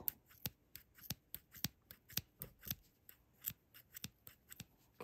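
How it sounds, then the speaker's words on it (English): Scissors snip through yarn loops for a tiny knitted dog or kitten sweater, a quick run of close, crisp cuts at an uneven rhythm with no talking. "We're just going to cut those loops."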